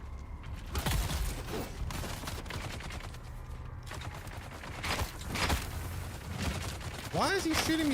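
Enemy gunfire in Dune Awakening, scattered bursts of rapid shots and a few single cracks spread across the stretch, mid-distance, with a voice speaking briefly near the end.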